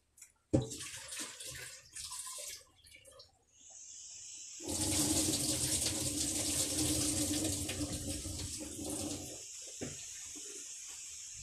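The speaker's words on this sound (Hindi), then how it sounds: "ये आलू जो है मैंने कट करके रख लिया है तो इसे मैं धुल लेती हूँ" Cut potatoes being washed under running water from a tap into a bowl, a near, steady gush and splashing after a few brief handling clatters, with a quieter trickle at the end and no speech.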